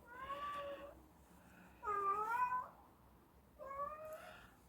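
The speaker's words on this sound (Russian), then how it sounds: "Эта кошка вернулась обратно." A sick house cat meows three times in a quiet indoor room, each cry drawn out and plaintive, with short pauses between them and no talking.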